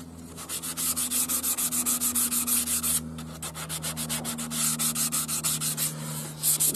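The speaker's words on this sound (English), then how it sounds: "This balsa wood's really soft, so sands up really easy" Soft balsa wood is sanded by hand in quick, rhythmic back-and-forth strokes, close up and fairly loud, with a short pause partway through.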